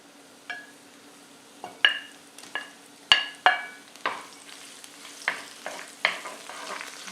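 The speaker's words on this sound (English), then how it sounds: "Let's start with the garlic and anchovy always. Got a nice gentle flame on." Garlic and anchovy frying over a gentle flame, with a soft, steady sizzle broken by a series of sharp clinks and taps of a utensil against the pan.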